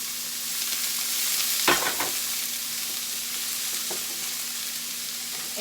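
Onion, pepper and garlic frying in a pan as they are stirred, giving a soft, steady hiss and sizzle with a couple of brief utensil scrapes.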